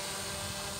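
A remote-controlled aircraft hovers in place about 1.2 meters up, its rotors giving a steady, dense buzzing whine at close range.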